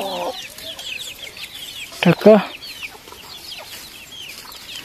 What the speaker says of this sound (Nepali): कुखुरा पनि टन्नै टन्नै छ,